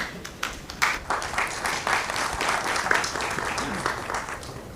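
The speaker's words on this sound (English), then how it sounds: "these claps are due to Uttam" Audience at a brokers' industry forum breaks into sustained applause, a dense wash of many hands clapping steadily for several seconds with no one speaking over it.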